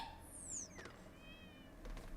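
A cartoon cat meows in the game Toca Life World, with a couple of high rising and falling meow tones, quiet and alone, ending in a sharp click.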